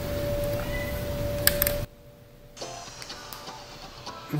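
A Bafang 8Fun BBS02 mid-drive e-bike motor whirs with a steady electric hum for almost two seconds, then cuts out, leaving a quiet room with faint clicks and handling noises.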